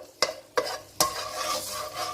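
Garlic ginger paste sizzling in hot oil in a pan for a chicken ginger curry, with three sharp scrapes of a spoon stirring it over a steady soft frying hiss.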